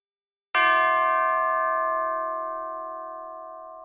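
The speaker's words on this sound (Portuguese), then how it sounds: "O sino que rola lá no começo dessa música" A single bell strikes once at the start of a film soundtrack song, clear and loud, then rings out in a long, slowly fading tone.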